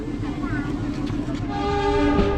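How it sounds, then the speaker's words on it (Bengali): A local passenger train pulls away from Lalitnagar station on the Rajshahi to Chapainawabganj line, a steady loud rumble of wheels and carriages with tonal horn-like lines rising toward the end. "ললিতনগর রেল স্টেশন থেকে আমাদের ট্রেন ছেড়ে দিয়েছে"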